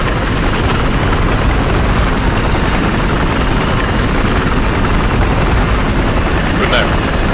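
A helicopter roars loud and close in Battlefield 4 on the Siege of Shanghai map, its dense rotor and engine noise steady throughout, with voices talking over it.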